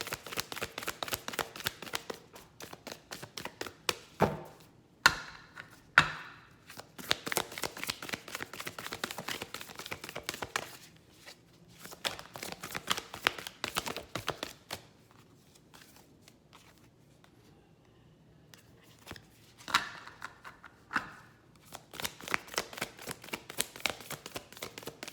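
Tarot cards shuffled by hand in repeated bursts of dry riffling and flicking, close and fairly quiet, with short pauses between rounds and little else around them.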